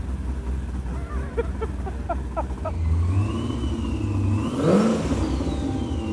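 An 840-horsepower Trans Am engine revs and rises in pitch, the exhaust rumbling loudly up close, with a brief rattle and a whirring tone overhead.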